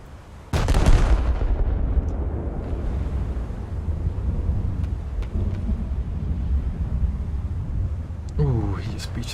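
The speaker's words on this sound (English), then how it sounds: "There we go, big ol' explosions." Battleship guns firing in a naval video game, a sudden heavy boom followed by a long rumbling roll of explosions and low thunder-like blasts, with a voice talking over the din.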